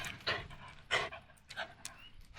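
A young puppy whimpers and pants in a few short, close bursts during a game of fetch, with no other sounds.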